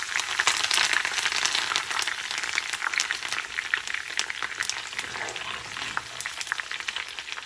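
Curry leaves and crushed garlic fry in hot tempering oil for a tomato pickle, a steady close crackling sizzle with sharp pops and spits throughout, loud and with no voices.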